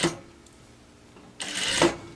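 A sewing machine stitches fabric to gather it for a simple summer dress, with a short mechanical burst at the start, a pause, then a longer close whirring run with no talking.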